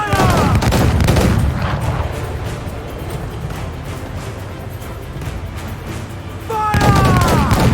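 Ship cannons fire a rolling volley in the pirate naval game Assassin's Creed IV Black Flag, loud booming blasts at the start and again near the end with a low rumble between.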